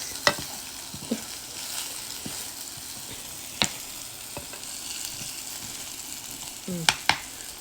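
Onions sautéing in a pan for a country chicken curry, a soft steady sizzle with occasional spatula taps and clicks, fairly quiet and close.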